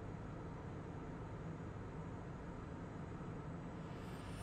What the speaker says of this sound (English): Hey, power set. Speed alive.